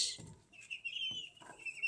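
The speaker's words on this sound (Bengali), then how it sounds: "দেখেন সবগুলি বাচ্চা, আমার মুরগির বাচ্চাগুলি" Soft, high-pitched peeping and chirping from one-month-old chicks, with a few short calls overlapping close by and faint clucks underneath.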